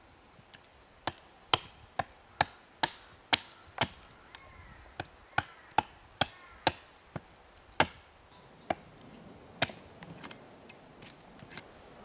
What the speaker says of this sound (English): So that's roughed out with the axe.